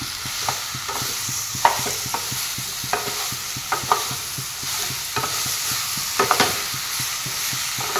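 Potatoes tossed with greens in a pan, stirred with a run of rhythmic scraping and clicking strokes over a soft constant sizzle, close up and with no one talking.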